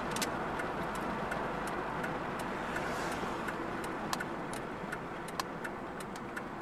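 Car driving on the way to a gas station, a steady low road and engine rumble heard from inside, with faint repeated ticking clicks over the top.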